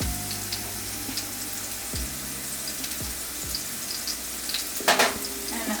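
Philly cheese steak meat fries in a pan with a steady close sizzle that runs throughout, broken by a few soft utensil knocks and a brief louder clatter near the end; no voices.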